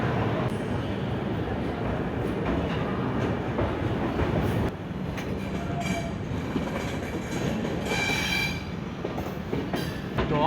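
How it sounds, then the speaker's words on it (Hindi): Grand Trunk Express train pulling out of Chennai Egmore station, heard from inside a 3rd AC coach: a steady loud rumble with rail clatter and a brief squeal of wheels near the end. "5:45 में हमारी ट्रेन निकल चुकी है चेन्नई इग्मोर रेलवे स्टेशन से।"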